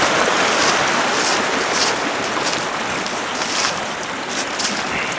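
Steady rushing water from a small waterfall in a creek that holds trout, a continuous broadband wash close by with no voices over it.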